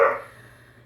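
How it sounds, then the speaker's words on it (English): One short dog bark, somewhat distant, fading quickly into quiet room noise. "Please excuse the dogs in the background."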